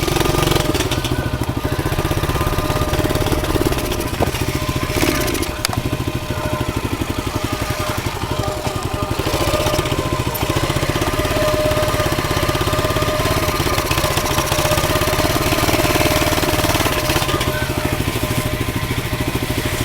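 A pit bike engine running with a muffler that may be faulty, a loud, steady, rough buzzing idle with knocking undertones that continues unbroken, with no talking over it.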